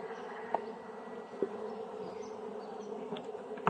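Honeybees buzzing around a hive in a continuous, faint drone, with a few brief clicks and knocks, and no voices.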